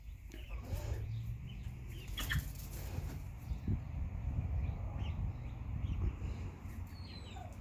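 Young chickens and chicks move about close by with wing flaps and soft clucks, giving scattered brief rustles and calls over a steady outdoor background.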